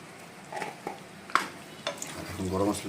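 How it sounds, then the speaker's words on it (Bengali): Potato dum gravy mixed with garam masala is stirred in a pan, giving soft scraping and a few spoon knocks over a low simmering hiss, with faint noise in the background. "গুঁড়ো গরম মশলার সাথে গ্রেভিটা একদম ভালো মতো মাখিয়ে নেব"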